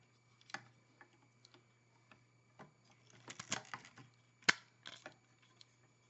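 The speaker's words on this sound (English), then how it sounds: "you have to do it over and over again until the winder doesn't make the same sound" A toy robot's winder mechanism is wound by hand, giving faint, close, irregular clicks and ticks in small clusters over a steady low hum.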